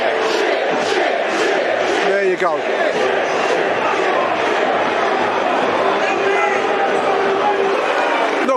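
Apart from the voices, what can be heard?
football fans booing players at Millwall away end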